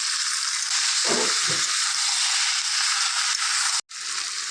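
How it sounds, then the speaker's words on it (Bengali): Onion-garlic paste and chopped tomato sizzle in a hot pan with a steady, fairly loud hiss. A couple of soft stirring thumps come early, and a brief dropout occurs near the end. "এখন এর মধ্যে দিয়ে দেব পেঁয়াজ রসুন বাটা আর কেটে রাখা টমেটো দিয়ে এবার ভালোভাবে নাড়াচাড়া করে নেব।"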